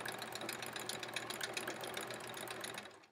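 Home sewing machine stitching free-motion quilting on a quilt-as-you-go sampler block, a steady rapid mechanical hum and needle chatter running close and continuous throughout, easing slightly toward the end.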